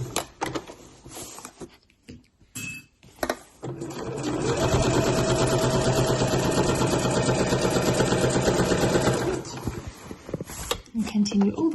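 Sewing machine stitching a slouch bag: a fast, even mechanical whirr runs for several seconds after scattered handling clicks, then stops, with a voice briefly heard near the end.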